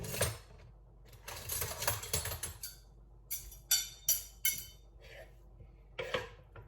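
Utensils clinking and scraping against a bowl while meat is mixed, a run of sharp, irregular metallic clicks and taps close by, fairly quiet, with brief pauses between bursts.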